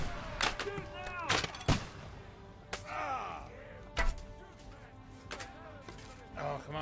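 Gunshots crack out in a medieval battle scene in the video game Kingdom Come Deliverance 2, several sharp, loud blasts spaced unevenly over a few seconds, with shouting voices around them.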